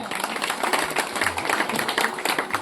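An audience gives a steady round of applause for a journalist at a gathering at the Sateri Devi temple in Chipi village, Sindhudurg. The clapping is dense and continuous, close and fairly loud.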